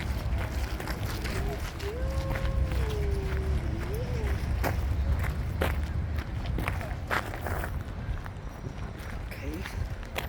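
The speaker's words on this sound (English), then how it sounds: "Very fast walk." Quick footsteps on a fast walk outdoors, rapid sharp steps in an even rhythm over steady wind and traffic rumble, with a voice heard speaking briefly.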